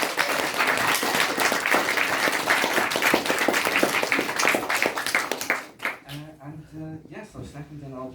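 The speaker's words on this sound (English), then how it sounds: "I'd like a round of applause first" An audience claps loudly for several seconds, the applause dying away before a person begins speaking.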